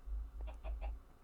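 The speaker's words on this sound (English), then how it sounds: "Come on, chickens." Video game chickens cluck in a short burst of three quick calls over a low, steady background hum.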